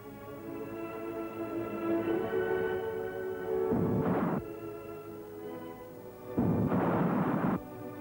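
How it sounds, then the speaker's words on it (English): Captured Italian artillery guns fire at enemy lines, heard as two heavy booming blasts spaced several seconds apart over a steady droning background, each blast lasting about a second. "The guns have no proper sights left on them, so they draw a bead on the enemy lines with a pole and let fly."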